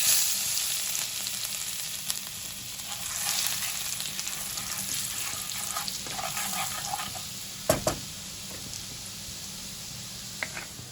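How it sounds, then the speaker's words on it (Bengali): Chopped garlic hits hot oil with cumin seeds for a tempering, giving a steady close sizzle and crackle, with an occasional clink of a stirring spoon against the pan. "এবার এর মধ্যে 5-6টা রসুন কুচি করে নিয়েছি, সেটা ফোড়নে দিয়ে দিচ্ছি।"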